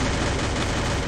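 A dense, loud blast of video game gunfire that fills the whole moment, harsh and continuous, with no voices.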